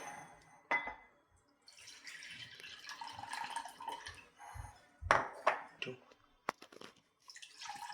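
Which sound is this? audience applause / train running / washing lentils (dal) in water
washing lentils (dal) in water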